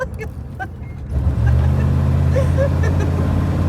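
A Dodge van accelerates hard during brake burnishing, its engine surging into a steady, close, loud roar after a quieter start with faint voices.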